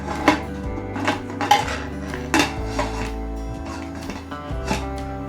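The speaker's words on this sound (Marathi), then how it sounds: "तर आता आपण कुकरचं टोपण जे आहे ते लावून घेऊयात" A metal pressure cooker lid is fitted onto the cooker pot, with a series of clear metallic clinks and scrapes at close range, spaced irregularly and heard alone without talk.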